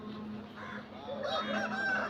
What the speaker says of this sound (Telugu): అలాగే వీడియోలో చూస్తుంది కాకినేమిలి పుంజు, తమిళనాడు బ్రీడ్కి చెందింది